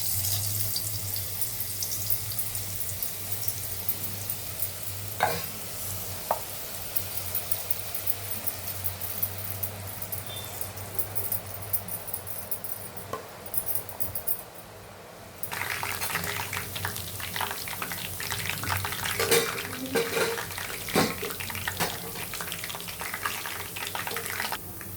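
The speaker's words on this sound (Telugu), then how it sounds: "ముందుగా ఆయిల్ వేడెక్కింది, ఇప్పుడు బూందీ వేస్తా." Boondi batter dropped into hot oil in a deep pan sizzles and crackles as a steady, fairly loud hiss, growing busier and brighter about midway through, with no talking.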